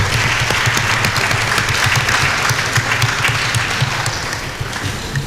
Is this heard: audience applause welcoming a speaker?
yes